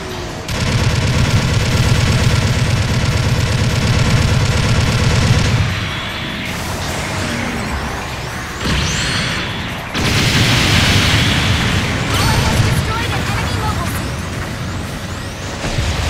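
Long-range supporting-fire barrage in Gundam Battle Operation 2, in space: dense continuous roaring blasts and rumbling explosions, loud and sustained, with a brief lull and then another heavy wave of impacts.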